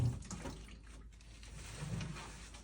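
Tap water runs into a sink while it is tested for temperature before patient perineal care, a steady, quiet rushing flow heard alone and close by for the whole stretch.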